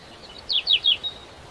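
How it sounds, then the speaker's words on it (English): A small bird on a fence gives a short burst of four or five high, quick chirps in a quiet setting, clear and fairly close. "The bird is sitting on the fence."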